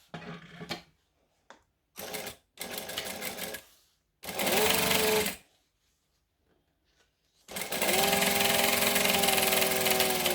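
A sewing machine top stitches a bag in several bursts: a few short taps, then two longer runs of a few seconds each, rising in speed and loud and near, with no talking.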